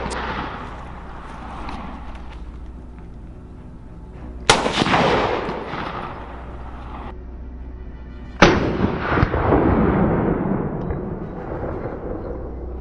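Gunshots fired at wild hogs on a Texas farm, two loud sharp blasts several seconds apart, each followed by a long rolling echo over steady background noise.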